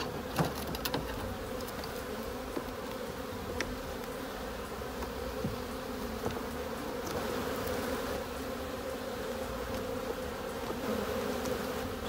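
Honeybees buzz steadily inside a hive during a spring inspection, a dense, close drone that runs throughout with occasional faint clicks and handling knocks from the frames.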